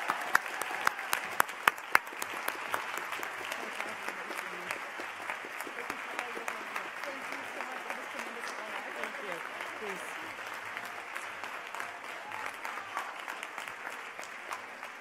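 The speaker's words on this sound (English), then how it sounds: "Please join me in a final round of applause for them." At a Harvard education graduation convocation, a large audience claps steadily for an extended stretch, a dense, even patter with a few sharper close claps early on and faint murmurs underneath.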